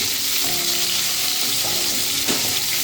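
Eight to ten green chillies fry in hot oil, a loud, steady crackling sizzle heard up close with no pauses.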